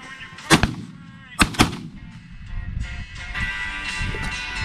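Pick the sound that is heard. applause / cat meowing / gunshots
gunshots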